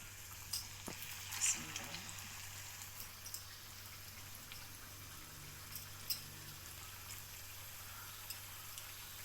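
Chicken lacha pakoras drop into hot oil and fry with a soft, steady sizzle and occasional faint pops, quiet and close with no talking.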